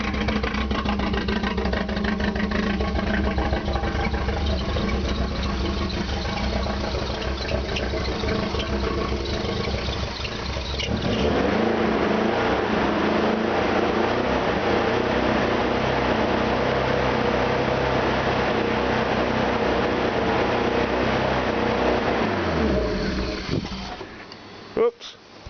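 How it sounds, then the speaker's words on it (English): A car engine idles steadily in a driveway after about a gallon of automatic transmission fluid was sucked into it, a loud continuous low rumble that shifts in tone partway through and then cuts out abruptly near the end as it stalls. "I should let this baby idle in my driveway for 10 minutes to get the whole exhaust and everything heated up"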